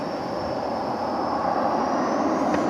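A passenger jet taking off at DFW Airport roars steadily and loudly as a continuous broad engine rumble with a faint high whine, with no voices.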